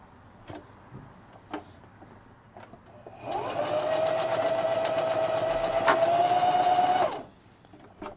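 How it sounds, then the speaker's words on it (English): A sewing machine stitches fabric close to its edge, running steadily with a whirring hum for about four seconds after soft handling clicks, then stops. "Some fabric will bunch up a little bit when you're sewing that close to the edge."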